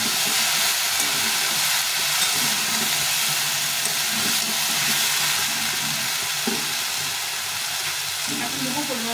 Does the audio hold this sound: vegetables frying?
yes